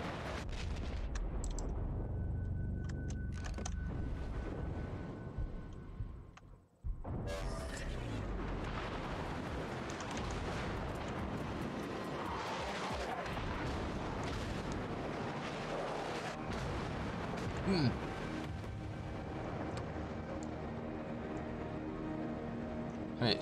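Explosions from bombardment in a naval video game arrive as repeated heavy booms and bursts over a continuous rumble of gunfire and battle noise, with a brief drop-out partway through.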